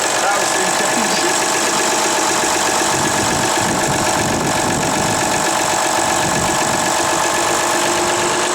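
Engine idling loudly and steadily after a cold start, a continuous rough mechanical rumble with constant vibration and no clear rise or fall.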